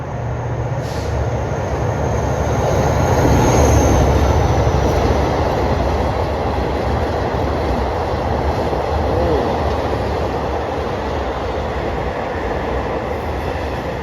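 A long-distance train rumbles past for a long stretch leaving Krung Thep Aphiwat station in Bangkok, a steady heavy roar of wheels and carriages that swells and then holds on, close by.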